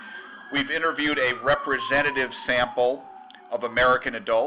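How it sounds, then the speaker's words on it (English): A siren passes outside as a faint wail that slides steadily downward in pitch, heard in the background beneath a person speaking close to the microphone. "I apologize for the siren behind me, it'll be gone in a second."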